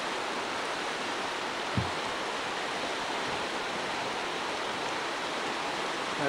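A flooded channel's water spills over a plugged, partly intact flume, giving a steady broadband rush like a small waterfall, continuous and fairly close, with one brief knock partway through.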